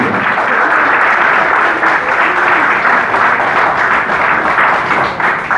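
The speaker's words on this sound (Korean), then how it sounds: "뜨거운 박수 한번 부탁드립니다" Loud, sustained applause from an audience filling a hotel function room at the opening ceremony of an art fair, a dense even roar of clapping that holds steady for several seconds.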